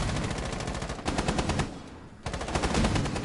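Sustained automatic gunfire in a Rainbow Six Siege match, rapid rhythmic bursts hitting the Buck operator, loud and close with a short lull in the middle before firing resumes.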